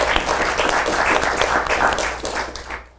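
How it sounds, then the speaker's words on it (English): An audience at a startup-scaling talk applauding the speaker steadily, a dense patter of many hands clapping at close range before it fades out at the end. "Let's give our speaker a hand of applause"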